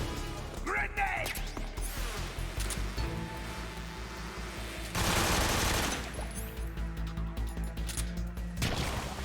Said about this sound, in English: Tommy gun!